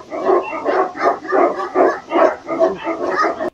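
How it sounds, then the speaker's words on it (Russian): Dogs bark in a rapid, rhythmic run of about ten loud, close barks with almost no pause between them. "И с этими собаками он будет играть."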